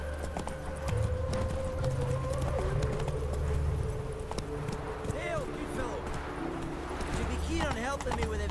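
Roach the horse gallops in The Witcher 3, a fast, even clip-clop of hooves running continuously under a low, sustained background score.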